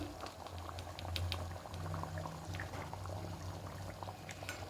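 Mung dal with chicken boiling in a pot, a soft, quiet bubbling simmer with irregular small pops and gurgles, steady and close throughout.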